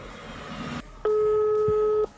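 A WhatsApp phone call ringing out, not yet answered: after a stretch of faint background noise, one steady ringback tone sounds for about a second, loud and clear.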